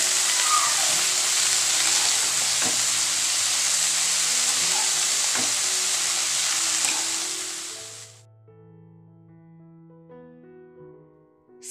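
Punka greens, eggplant, potato and peanuts fry in a pan with little oil, giving a loud, steady, close sizzle that holds for about eight seconds, then cuts off abruptly as soft musical tones take over.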